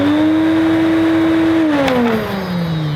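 An Electrolux 380 Turbomatic vacuum cleaner motor running loud and close, a steady droning whine that shifts and drops in pitch partway through, no talking.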